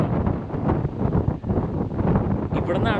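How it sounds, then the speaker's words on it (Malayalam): Strong wind buffets the microphone at a coastal pilgrimage spot where cycling travellers stop, a steady loud rumbling roar throughout with gusty swells and no pauses. "നല്ല കാറ്റ് വരുന്നുണ്ട്."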